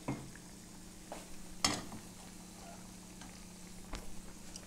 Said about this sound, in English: So I'm going to move the corned beef. Let that simmer and use a bigger heat.